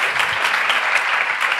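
Brief, dense applause from a seated audience at a public talk on women in Jules Verne's work, an even burst of clapping that fills the room with no voices.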